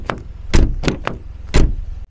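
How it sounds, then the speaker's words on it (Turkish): Car doors on a Renault Taliant Joy X-tronic slam shut with a few sharp, solid thuds at uneven intervals, loud and close, the last two the heaviest, with no talk. "Kapı seslerimiz bu şekilde."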